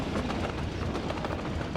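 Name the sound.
steel train trundling along in Workers & Resources video game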